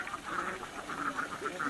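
Layer ducks on a small backyard duck farm in a village in West Lampung quack loudly and repeatedly at close range, in a rapid run of nasal calls.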